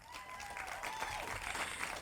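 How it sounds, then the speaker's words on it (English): An outdoor crowd at a domestic violence awareness walk breaks into continuous clapping, a busy wash of hands with faint shouts and whistles mixed in, held at an even level. "Give George Achu a round of applause."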